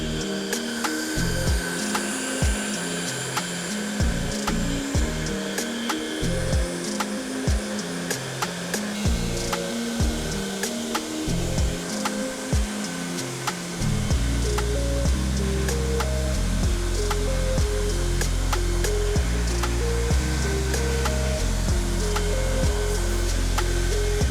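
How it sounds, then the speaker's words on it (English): A hairdryer warms paint protection film on the roof of a Nardo Grey Audi RS3, its close motor whine pulsing on and off at first, then running steadily louder for the second half. "use the hairdryer and the glove just to tack that final bit down"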